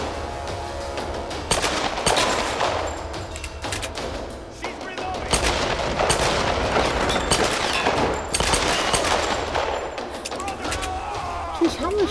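Rapid gunfire from a Tomb Raider firefight, loud, dense bursts of shots and impacts over a rumbling game soundscape, continuing steadily throughout with brief dips, while a person's voice also speaks at times.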